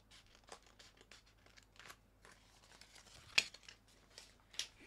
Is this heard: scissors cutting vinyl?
yes